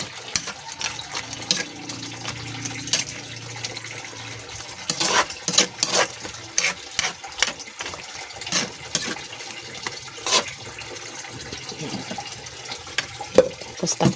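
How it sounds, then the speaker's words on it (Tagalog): Water poured into a cooking pot, a soft splashing fill broken by sharp metallic clinks and knocks of utensils against the pot, fairly close and moderately quiet. "lagyan natin siya ng tubig"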